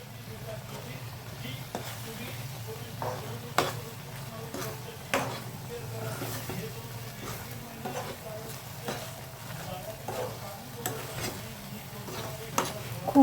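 Drumstick (shevga) fry cooking in a pan, Marathwada style, with a soft continuous sizzle broken by repeated scraping clicks of a spoon stirring against the metal, and a voice faintly underneath at times.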